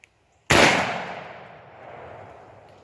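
.22 pistol fires a single sharp, loud shot close by after a brief quiet, followed by a long, slowly fading outdoor echo.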